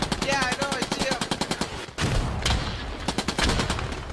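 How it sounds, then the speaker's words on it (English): Dense rapid gunfire in a WWII shooter game battle near a bunker, with sustained close machine-gun bursts and overlapping shots continuing throughout under occasional voices. "They're getting shot from the right at that bunker"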